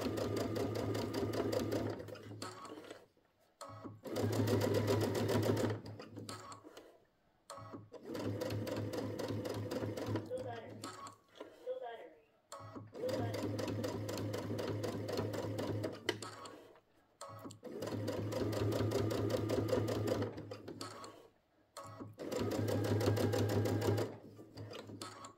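A sewing machine stitches a fabric wristlet in repeated runs of several seconds each, separated by short pauses, close and steady with no talking.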